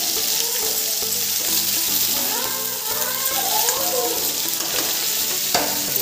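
Cabbage cooks in a pan with a steady, close sizzle and scraping stirring throughout, while a person talks over the frying.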